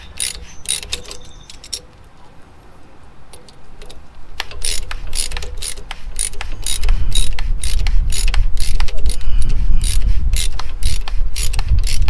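A tool turns an Acura MDX brake caliper piston back, giving rapid, regular ratcheting clicks that grow louder and denser over a rising mechanical grinding rumble, close up and with no talk.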